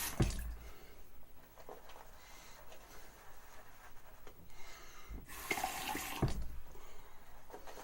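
Faint running tap water trickling from a faucet, low and steady, with a louder burst of flow near the end as more water is added.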